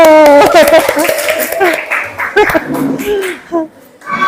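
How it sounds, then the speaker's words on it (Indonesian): A class of schoolchildren claps hands together in a classroom, a quick burst of loud, uneven claps mixed with children's voices and some laughter, fading into chatter. "Ya, tepuk tangan dulu."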